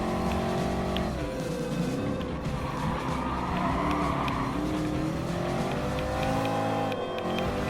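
Race cars in Gran Turismo Sport, including a BMW M4 and a Toyota SFR Racing concept, roar continuously through corners, engines rising and falling in pitch with shifts and revs, steady and loud throughout with no talking.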